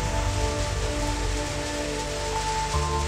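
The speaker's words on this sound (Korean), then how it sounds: "시원스레 쏟아지는 빗줄기를 차곡차곡 모아줍니다" A heavy tropical rain shower pours down steadily on a sea-dwelling community, a dense continuous hiss of rain hitting surfaces close by with no talk.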